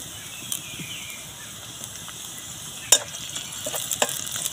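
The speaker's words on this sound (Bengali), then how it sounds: "কাঁচা লঙ্কা পেঁয়াজ ভালো করে ভাজা হয়ে গেছে।" Chopped onion and green chili fry softly in a wok for mix veg chowmein, a faint low sizzle with a few sharp clinks of a spatula near the end, no voices.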